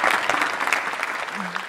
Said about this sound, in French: je vous propose d'abord qu'on les applaudisse très fort